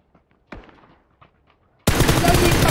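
Gunfire in a battle royale video game: a single sharp shot is followed by quieter clicks, then a sudden loud, dense burst of rapid fire fills the end.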